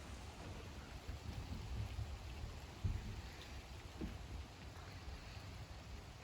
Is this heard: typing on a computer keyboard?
no